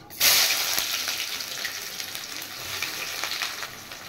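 Chopped onion hits hot oil in a wok already seasoned with whole cumin, dried red chilli and bay leaf, setting off a loud, continuous sizzle that holds steady, close by, with no talking.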